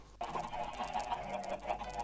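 A Minecraft chicken clucks continuously, mid-loud and close, with electronic game-style background sound underneath.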